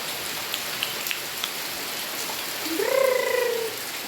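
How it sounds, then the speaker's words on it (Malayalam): Steady rain pours down through the whole stretch at moderate loudness, with a brief animal-like call rising near the end over the constant hiss. "ഈ മഴ മുഴുവൻ നനയണ്ടായിരുന്നു കേട്ടോ"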